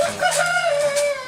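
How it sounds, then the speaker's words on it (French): A rooster crows nearby at a house on a windy day, a long ringing call held steady for over a second, with faint wind noise underneath. "quand il y a des coqs qui chantent"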